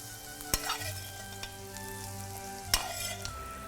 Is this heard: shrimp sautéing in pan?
yes